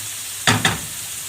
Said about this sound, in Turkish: içerisine yaklaşık 200-250 gram kadar kıymamı ilave ediyorum. İkisini birlikte kavuracağım ki soğanlarımız yanmasın.